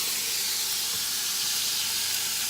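White wine poured into a very hot pan of onions bursts into a loud, steady hissing sizzle that fills the moment without a break.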